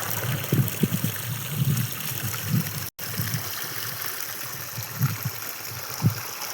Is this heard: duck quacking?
no